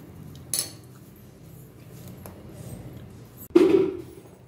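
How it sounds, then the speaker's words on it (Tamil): Jaggery is stirred into a pot of milk kozhukattai, with sparse metallic clinks of a spoon against the vessel, a sharp scrape early and a louder clattering knock near the end over a quiet background. "வெல்லம் போட்டு நல்லா கலந்து விட்டுருங்க."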